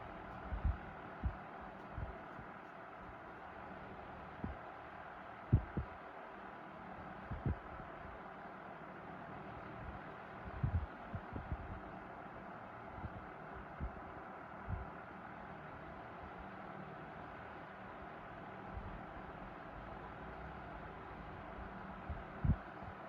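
A Frigid 16-inch double oscillation table fan runs on low speed, giving a steady soft hum with faint irregular low thumps and clicks, fairly quiet and with no talk.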